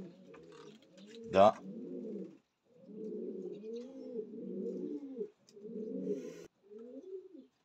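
Racing pigeons coo in low, rolling phrases, repeating close by in several long bouts with brief pauses, and a voice speaks a single short word early on.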